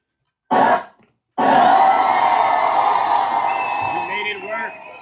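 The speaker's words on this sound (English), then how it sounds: "I want to give all of you in the audience a huge round of applause." A studio audience at a live show lets out a short whoop, pauses, then bursts into loud sustained cheering, shouting and clapping that gradually settles, with a voice speaking near the end.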